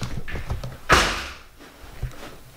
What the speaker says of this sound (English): The door slammed.